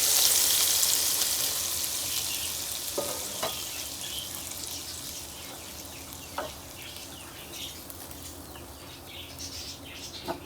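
Colocasia leaves are added to a thick masala and fry in the pan with a steady sizzle, broken by a few sharp clinks from stirring. Nobody speaks.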